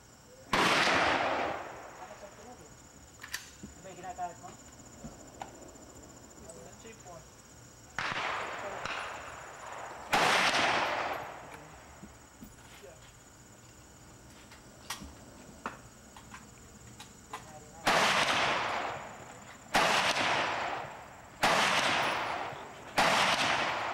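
Gunfire at an outdoor shooting range at Blue Ridge: loud sharp shots sound singly and in quick groups at irregular intervals, with reverberant tails, near and far, and people talking faintly in between.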